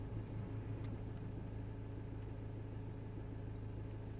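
Ford Fiesta automatic with a cleared gearbox fault idles steadily: a low, even engine rumble, close and continuous, with no voices.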